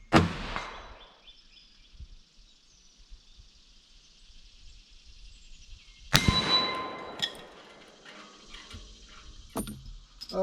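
A rifle bullet strikes a black steel gong target at a shooting range, fired from a 1915 SMLE No 1 Mk III, giving two sharp metallic clangs several seconds apart, each followed by a long, ringing, fading tone.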